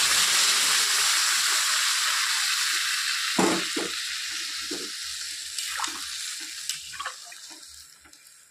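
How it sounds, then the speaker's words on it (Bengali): Water poured into a pan of spiced, sautéed vegetables for a Bengali katla fish curry with raw banana, giving a loud steady hiss and sizzle that gradually eases, with a few clinks of utensils near the end. "এখন আমি এর মধ্যে দিয়ে দিব জল"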